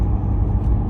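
An Aston Martin DBX SUV on the move, heard from inside as a loud, steady low engine and road rumble, no voices.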